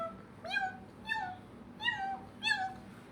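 A human voice imitates a cat, giving four short, evenly spaced meows in a row, close to the microphone with only faint background hiss between them.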